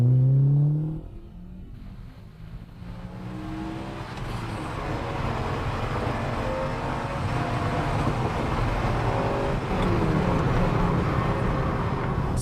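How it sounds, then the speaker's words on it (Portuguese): A Ferrari 308 Vetroresina engine revs in second gear, a broad, steady mechanical roar that rises and holds as the car accelerates, with some brief tonal sweeps at the start and no speech. "Sim, isso soa um pouco melhor, mas entendo porque muitos ficaram decepcionados com o som desses carros na época."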